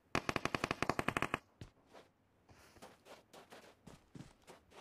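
Rapid burst of AKM rifle fire in PUBG Mobile, about a dozen loud evenly spaced shots in quick succession, followed by a single isolated shot and then quieter scattered game noises and footsteps.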